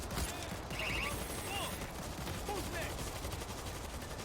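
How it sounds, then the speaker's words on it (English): Grenade launcher fired in the World War Z zombie shooter, heard as sharp explosive pops within a dense, constant din of game gunfire, with faint talk mixed in. "Show you guys grenade launcher. Pops off, it does quite a bit of damage"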